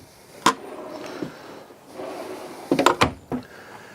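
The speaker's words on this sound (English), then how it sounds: "Full extension drawers." Wooden full-extension drawers in a 2018 Thor Four Winds Class C motorhome slide and thud shut a few times, with sharp knocks near the start and a quick cluster of bumps toward the end, close by and fairly loud.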